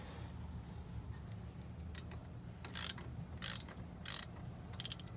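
A ratchet wrench clicks in short bursts while loosening a 12 millimeter brake bolt on a 1999–2004 Ford Mustang, faint ratcheting strokes over a steady low hum.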